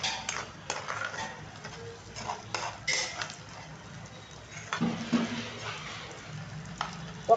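Egg fried in a pan for egg fried rice, stirred and broken into pieces: a spatula scrapes and clinks against the metal pan in short irregular strokes over a soft, steady sizzle.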